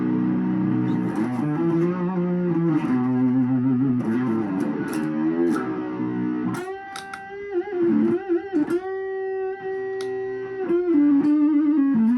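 Electric guitar played through a Fuzzboy fuzz pedal's thick distortion, sustained buzzy chords and then choppier riffs, loud and upfront with no talking.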